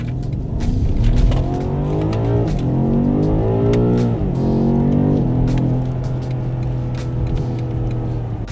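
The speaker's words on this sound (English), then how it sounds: "BMW M5 competition on Britain's bumpy roads" A 2021 BMW M5 Competition engine drones as the car drives on bumpy British roads, loud and steady with rising and falling revs through gear changes, road and tyre noise underneath, no talking.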